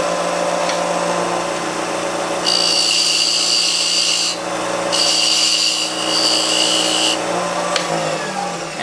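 A power tool cuts a wooden tenon for a small holiday ornament, giving a steady rough grinding whine that rises into a brighter, harsher cutting tone in bursts, loud and close with no talk.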